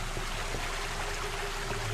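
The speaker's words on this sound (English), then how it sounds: "I can kind of hear a waterfall or something." Continuous rushing of a waterfall in a video game, a steady broadband wash of falling water with no pauses.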